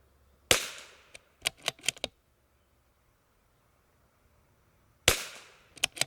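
Rimfire shots from a CZ457 MTR rifle firing budget Eley Club ammunition, two sharp cracks about five seconds apart, each followed by a quick cluster of clicks from the bolt being worked, outdoors with near-silence in between.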